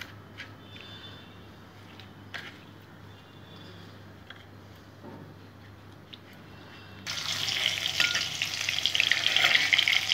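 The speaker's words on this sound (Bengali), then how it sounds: "লাল লাল করে ভেজে নেব মাছ।" Salted, turmeric-coated parse fish frying in mustard oil: a quiet low sizzle at first, then a sudden loud burst of hissing, crackling spatter as the fish hits the hot oil, continuing close and intense.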